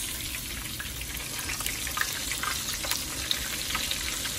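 Pork chops frying in a pan, a soft, steady crackling sizzle with scattered small pops, fairly quiet and continuous.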